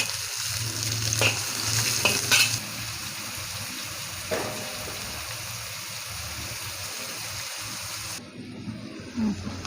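Onions and green chillies sauté in a hot pan with a steady, close hiss of sizzling. Scraping stirs cut in sharply now and then, and the sizzle thins near the end, with light clatter.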